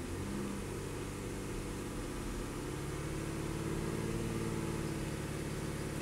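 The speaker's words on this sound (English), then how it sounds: "Raise the RPMs up just a hair." A Mazda engine with a bank 2 air-fuel imbalance fault has its RPM raised just slightly. It gives a continuous close, even engine drone with a faint rise in pitch partway through and no talking.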